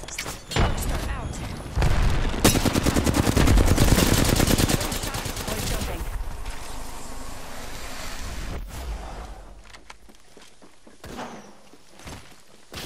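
Rapid automatic gunfire bursts in Apex Legends, loud and close for the first few seconds, then sporadic shots and shuffling game noise with a windy, surf-like background as bursts fade out.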